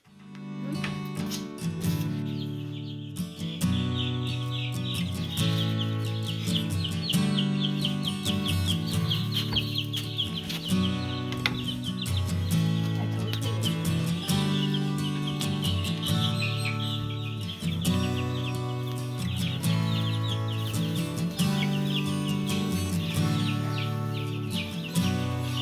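A brooder full of young chicks chirping continuously, with a dense chorus of high peeps over steady low background noise and occasional handling sounds.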